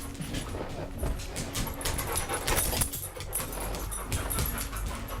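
A dog whimpers in short high cries and pants rapidly and steadily, close by and fairly loud, with no talking over it.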